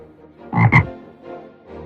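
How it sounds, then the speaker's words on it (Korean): A toad croaks in a Korean children's fairy-tale narration: two loud, close, rough croaks in quick succession, followed by softer low croaking sounds, with no talking. "아들 두꺼비는 여전히 이상한 소리를 괭괭 질렀습니다."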